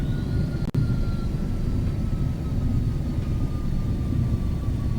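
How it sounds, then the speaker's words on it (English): A Boeing 777 airliner's thrust reversers roar on landing in a flight simulator, producing a loud, sustained low engine rumble with faint whining tones above it and a brief dropout near the start. "Reversers."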